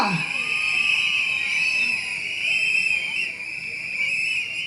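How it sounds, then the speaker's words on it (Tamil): Many shrill whistles blow together in a sustained, wavering chorus from a crowd at a political rally speech, with a faint din of voices underneath. "நம்ம விசில் அடிக்க தெரியாதா?"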